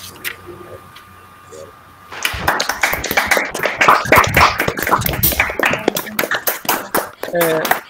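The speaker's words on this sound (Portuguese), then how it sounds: "vamos abrir o áudio para aplaudi-lo" Applause for a speaker closing an online applied mathematics session, as participants unmute: after a quiet start, a burst of scattered, uneven hand clapping from several people suddenly begins and carries on at moderate loudness to the end.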